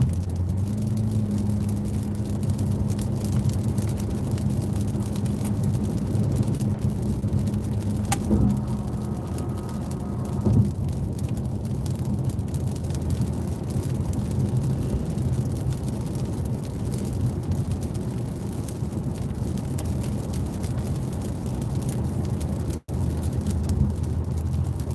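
Steady low road rumble and tire drone inside a Toyota Avalon cruising along, continuous and even for the whole stretch, with a brief soft thump midway and a momentary dip near the end.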